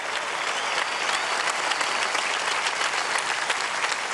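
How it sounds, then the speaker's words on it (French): A large audience at a papal audience applauds fifty years of the Neocatechumenal Way, dense sustained clapping from a big crowd that stays loud and even throughout with no speech over it. "Applaudissons ces 50 années."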